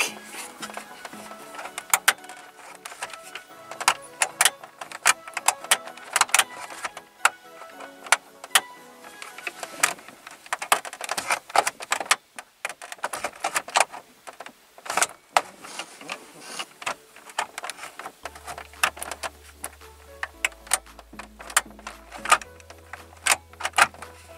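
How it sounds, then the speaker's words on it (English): An aftermarket stereo comes out of a 2001-2003 Ford Taurus dash in close-up with dense clusters of plastic clicks, snaps, rattles and scraping, plus a short low hum near the end. "So we'll go ahead and take this stereo out first."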